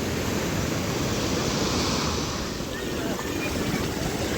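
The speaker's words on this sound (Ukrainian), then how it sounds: "яка хвиля, подивіться, а супер" Ocean waves breaking on a rocky shore in Tenerife, where surfers ride the swell: a continuous loud roar and wash of surf, steady throughout with wind noise on the microphone.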